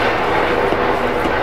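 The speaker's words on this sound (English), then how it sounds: "that thing is so close, I can almost feel the draft from the chopper blades" A low-flying helicopter coming in to land right overhead beside a grill, a loud, steady, close rotor roar that fills the whole moment without pause.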